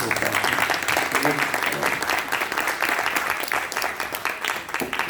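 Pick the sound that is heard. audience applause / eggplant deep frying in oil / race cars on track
audience applause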